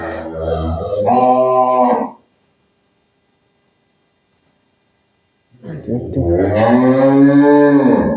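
Dairy cows on a farm moo loudly and close by, two long drawn-out calls separated by several seconds of silence.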